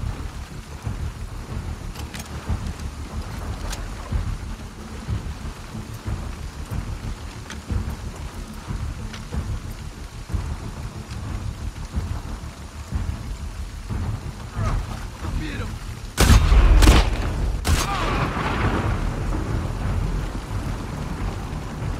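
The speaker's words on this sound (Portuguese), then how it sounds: "Nossa, deu o efeito de trovão bem na hora que eu dei o tiro, velho." Thunder cracks in The Last of Us Part II over a steady wash of heavy rain, with a sudden loud burst and a couple of sharp follow-up strikes near the end.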